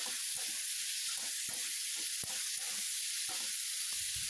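Potatoes with salt and turmeric frying in a pan, a soft, fairly quiet sizzle with intermittent scrapes and taps of a spatula stirring.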